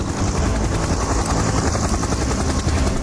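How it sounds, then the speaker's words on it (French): A rented helicopter flies toward the remote island of Eiao, its rotor and engine producing a loud, steady thudding roar throughout, near and continuous. "Ils décident de louer un hélico pour se rendre sur l'île d'Eiao."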